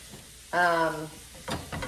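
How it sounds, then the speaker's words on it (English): Breakfast sausage sizzling in a pan, a steady hiss broken by a brief voice-like tone and a few sharper crackles near the end. "You can probably hear it starting to sizzle."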